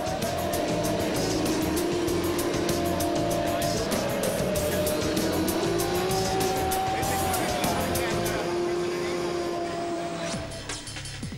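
Motorcycle engines in the racing video game Moto Racer 2 whine continuously, rising and falling in pitch as they shift through gears, loud and close, with a game-like mix and a voice partly overlapping, at the 1998 E3 show in Atlanta.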